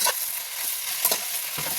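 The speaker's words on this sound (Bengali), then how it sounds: "লাউ শাকগুলো দিয়ে অল্প দিয়ে এরকম নাড়াচাড়া করে দেবো" Bottle gourd greens are stirred and fried in a pan, giving a soft steady sizzle broken by a few scraping stirs of the spatula, close and clear with no talking.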